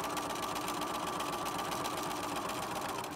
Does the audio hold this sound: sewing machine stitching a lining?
yes